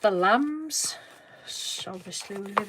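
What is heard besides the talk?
No everyday noise stands out behind the speech.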